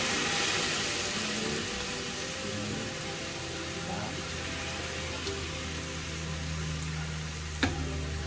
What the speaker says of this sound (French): I put the temperature higher just to pour in the wine, and I will reduce it just after.